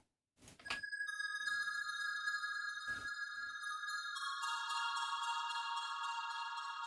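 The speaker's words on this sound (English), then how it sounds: "This was more of a textural type of synth effect." Sustained shimmering synthesizer tones from the Phuturetone GR-8 plugin's Super Reverb Delay effect, with long reverberant, echoing tails forming a layered textural wash, preceded by a few soft thumps.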